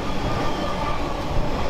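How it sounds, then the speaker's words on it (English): A 20-year-old Alstom-built Pendolino Class 390 tilting train in Avanti West Coast livery rushing past at speed, a loud, dense, steady roar of wheels and rails. "video featuring Pendolino Class 390 tilting trains, built 20 years ago by Alstom,"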